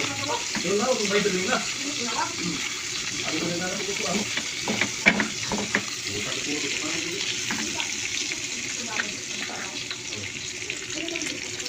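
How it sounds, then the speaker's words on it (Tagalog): Pork pieces frying in their own rendered fat without added oil, a continuous crackling sizzle close up with intermittent stirring scrapes and clatter, and some talk over it. "piniprito siya ng walang mantika para lumabas yung sariling mantika niya"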